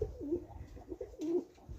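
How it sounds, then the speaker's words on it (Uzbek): Pigeons coo in a low, repeated bubbling rhythm, several soft rolling calls close by with no other sound over them. "Mana kaptarlarimiz akalar"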